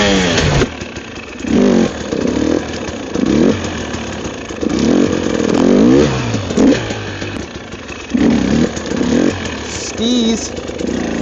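A motorcycle engine revs in short repeated bursts during slow wheelie attempts in snow, rising and falling close by, with a voice talking over it at times.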